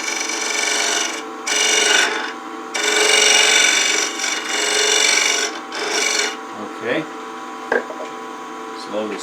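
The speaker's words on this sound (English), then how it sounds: "now we're going to take our point tool again and do a chamfer" A point tool cuts a chamfer on spinning palo santo wood on a lathe, giving loud rasping, scraping bursts that start and stop several times, then quieter, sparser scrapes toward the end.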